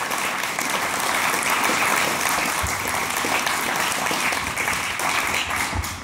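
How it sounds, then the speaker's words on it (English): Audience applause at a Labour campaign rally in Wellingborough and Rushden, a dense, continuous clapping crowd that stays loud and steady throughout, with no talk over it. "Let's hear it for Paul Stinchman."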